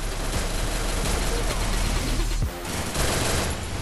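Rapid automatic gunfire from a mobile shooter video game rattles in dense, continuous bursts, loud and close, with a short lull before the shooting resumes.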